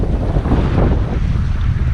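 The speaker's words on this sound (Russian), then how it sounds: "Ветерок опять усилился" Wind gusting across a lake during a carp fishing trip from a boat, a steady broadband rush with water lapping, loud and continuous throughout with no talking.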